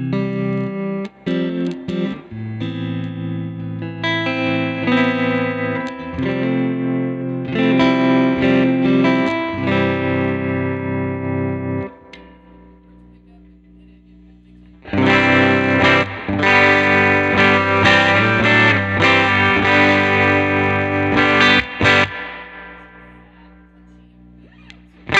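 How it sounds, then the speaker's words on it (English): Electric guitar played fingerstyle at low volume through a Princeton Reverb amp, giving a clean tone with tremolo; sustained chords and melodic lines ring loudly for about twelve seconds, pause briefly, then resume with fuller strumming. "if I just back the volume down a little bit and play with my fingers, I get a really nice clean tone"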